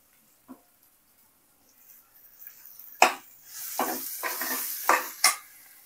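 Softened tomatoes with half a spoon of turmeric are stirred and sautéed in a pan for squid curry: a quiet start, then a soft sizzle with several sharp spoon-on-pan scrapes and clatters close by.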